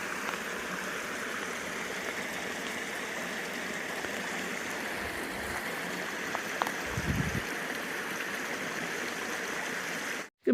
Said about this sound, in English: Looks like they have a culvert, and the creek's flowing down there.